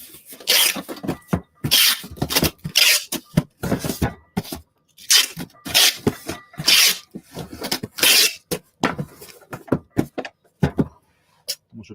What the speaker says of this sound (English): Sorry about the noise, but I'm packing